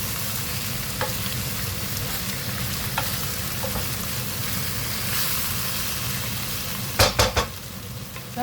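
Pork and garlic frying in a pan, a steady close sizzle and crackle throughout, with occasional light scrapes of stirring and a cluster of sharper clinks of utensil against pan near the end, no talking.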